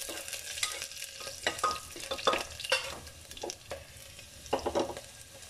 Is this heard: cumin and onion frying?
yes